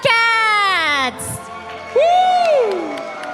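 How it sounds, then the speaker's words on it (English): Team members cheering and whooping at an offline esports grand finals event, loud excited shouts with sweeping rising and falling voices in two bursts, close and energetic. "we can see all the team members cheering for them"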